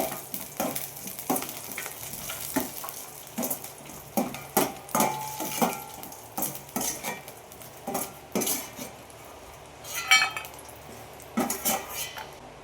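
Dry fruits frying in a little ghee in a pan, with repeated sharp clinks and scrapes of a metal spoon against the pan over a soft sizzle, close and rhythmic, no voices.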